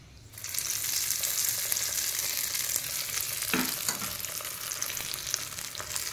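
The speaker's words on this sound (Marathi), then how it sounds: "आणि ही फोडणी यात घालायची आहे." A hot tempering of dried red chillies in oil gives a loud, continuous crackling sizzle close by, with a brief sharper burst partway through and no talking.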